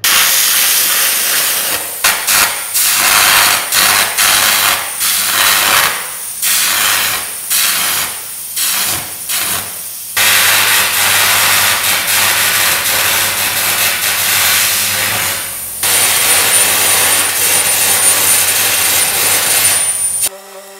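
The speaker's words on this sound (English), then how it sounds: "now what I'm going to do is gouge the welds off that hold that onto the bucket and take the bucket off" Welds are gouged off a toe tip excavator bucket, with loud, roaring, hissing bursts that start and stop several times early on, then run long and continuous before a short break and a final sustained blast.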